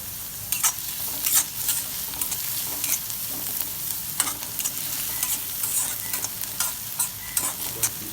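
Onion and garlic frying in oil in a pan, a steady close sizzle broken by frequent scraping stirs of a spatula, with no one talking.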